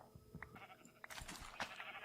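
Minecraft sheep give faint, brief bleats over a soft game background, with a few scattered blocky clicks.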